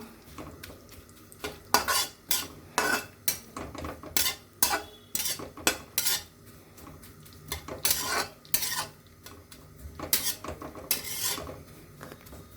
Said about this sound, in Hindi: थोड़ा सा घी और डाल दिया मैंने, ज़्यादा देर नहीं भूनूंगी मैं इसको।